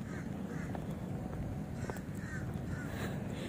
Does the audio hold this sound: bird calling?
yes